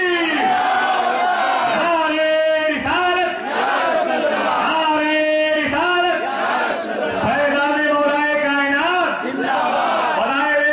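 At an urs gathering for Khwaja Shabbir Sarkar, a large crowd answers a takbir call with loud, rhythmic chanted slogans in unison. Voices rise and fall in repeated waves that fill the whole stretch.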